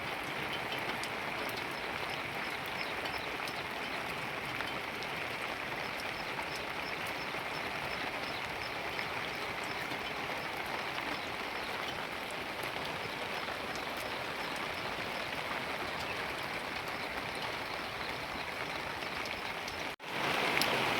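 Heavy monsoon rain pours steadily onto a shed roof, a dense, even roar that holds loud and unbroken throughout.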